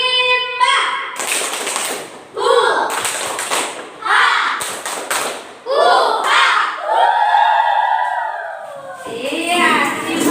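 A group of children chants and claps in rhythm in a teacher-led tepuk rimba clapping game, with bursts of claps and taps mixed into lively voices throughout.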